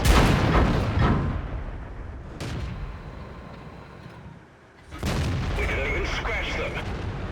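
A tank cannon fires in the World of Tanks game: a loud, sharp boom up front, another shot a moment later, then a fresh blast with rumbling tail, while a voice talks over it.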